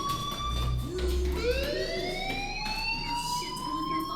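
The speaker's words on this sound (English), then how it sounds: "Hey, do you hear that fire alarm?" Fire alarm ringing inside a school building in the Life is Strange video game, a sustained electronic siren tone rising and sweeping upward in pitch, steady and fairly loud over a low rumble, with no talking.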